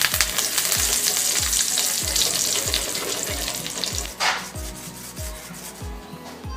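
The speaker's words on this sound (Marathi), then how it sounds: "आता कढीपत्ताही तळून घ्यायचा" Curry leaves frying in hot oil for makyacha chivda, a dense steady sizzle with repeated low thumps of stirring in a pan, close and fairly loud with no talk.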